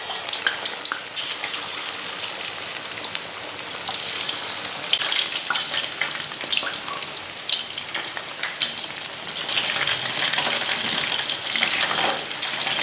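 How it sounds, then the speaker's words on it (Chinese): Chicken pieces coated in sweet potato starch deep fry in hot oil, a loud, dense, continuous sizzle and crackle that holds steady throughout, close up and with no voices. "鸡块炸至表面金黄，"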